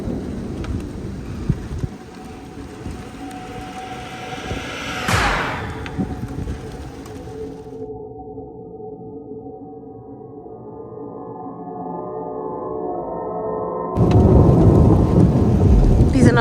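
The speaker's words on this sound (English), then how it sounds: "These are not guns, it's just a freaking storm." Heavy thunderstorm over a campervan on a first night in Serbia: steady loud rain drumming on the van, a sharp crack of thunder midway, and a sudden surge of pounding downpour at the end.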